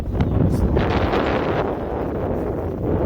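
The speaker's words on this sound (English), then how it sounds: "Got a little windy all of a sudden." Steady gusting wind on the John Muir Trail buffets the microphone with a loud, continuous low rumble and rustle, no voices, for the whole stretch.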